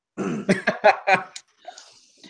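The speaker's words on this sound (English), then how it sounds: "Sorry, coughing fit." A burst of harsh, rapid coughs, about five in quick succession, followed by a few softer throat sounds and breaths.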